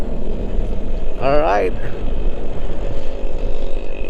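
Steady road and wind rumble from a motorcycle ride, likely a Honda Click 125i scooter, runs throughout beneath a short spoken word.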